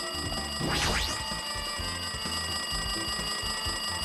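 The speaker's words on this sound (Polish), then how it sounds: "To chyba ten telefon dzwoni." Loud electronic telephone ring in the Danganronpa 2 video game, a continuous trilling alarm-like tone with a rising sweep near the start, set over steady background game music.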